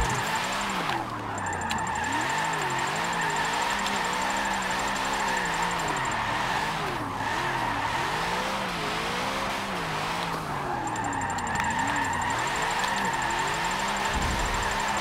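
A 2000 HP Plymouth GTX drift build in the Forza 7 racing game, its engine revving hard and steady while the tires squeal and skid continuously through the whole stretch.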